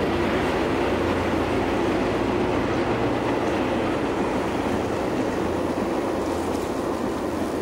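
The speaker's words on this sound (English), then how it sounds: "Another commuter train." Steady loud rolling of a commuter train passing close by on the line near Brunswick, Maryland, wheels rumbling and clattering without pause and no talk over it.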